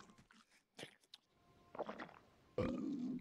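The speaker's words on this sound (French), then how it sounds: "Regardez-le roter à la fin de ça." A creature in a video game lets out a short, gurgling burp at the end, after a few soft scattered clicks and quiet noises.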